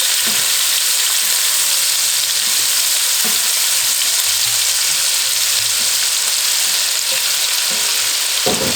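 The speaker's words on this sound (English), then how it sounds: "I'm going to add a cup of onion. I'm going to give it a mix." Chopped onion sizzles steadily in hot oil in a pan for cumin rice, with a continuous frying hiss and occasional scraping stirs of a utensil throughout, close and loud with no talking.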